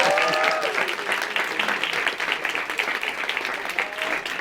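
Audience applause in a Brazilian public hearing, dense steady clapping from a crowd that holds strong throughout, with a few faint voices and whistle-like tones near the start.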